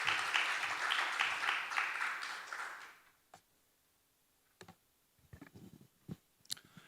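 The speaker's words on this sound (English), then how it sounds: "Please welcome him with a big round of applause." An audience at a Seoul Olympic legacy forum applauds warmly to welcome a speaker, a dense burst of clapping lasting about three seconds before fading to silence and a few scattered clicks.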